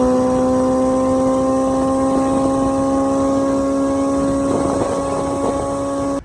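A small motorcycle rides along the road toward Nantes, a loud steady engine drone with a strong, even pitch and constant wind roar throughout, cutting off at the very end.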